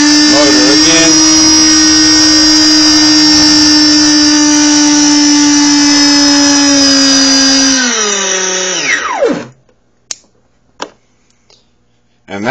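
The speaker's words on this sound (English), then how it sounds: "then it's going to run the motor again" A brushless motor driven by an Arduino-controlled ESC whines loudly and steadily for about eight seconds, then spins down with a falling pitch into near silence broken by a few faint clicks.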